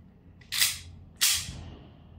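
Two sharp gas blowback shots from a WE Hicapa T-Rex airsoft pistol, each a crisp snapping pop with a brief mechanical clack, spaced about half a second apart and heard alone at close range.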